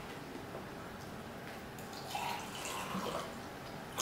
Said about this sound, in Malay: Okay, tambah dengan sedikit air.